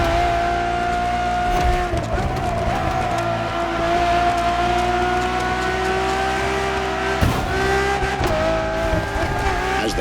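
A Ferrari Enzo supercar drives in the racing video game The Crew Motorfest. Its engine gives a loud, steady, high-revving drone close up, with brief dips where gears seem to shift.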